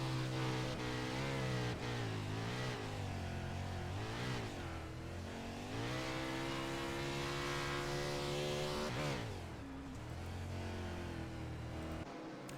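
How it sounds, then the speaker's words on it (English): Wingless 410 sprint car at Eldora Speedway, engine roaring continuously as the driver works the throttle, pitch rising and falling in repeated surges, fairly distant and steady with no talk. "You hear him working that throttle."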